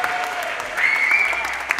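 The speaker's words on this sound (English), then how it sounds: "Give a round of applause for everybody sharing their talent." An audience at a talent show claps in sustained applause, fairly loud and close, with a brief whistle riding over the clapping partway through.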